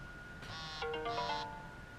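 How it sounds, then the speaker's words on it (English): A short melodic electronic chime, a rising doodle-doodle-doo from a car system linking to a phone, plays once, clear and moderately quiet against a low background hum. "that little doodle-doodle-doo, that's telling me it's on the phone"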